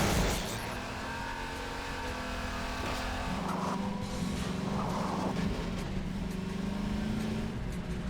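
A car in Half-Life 2 with a handbrake and limited turbo drives steadily, its engine droning continuously with a rising and falling whine as it accelerates and cruises.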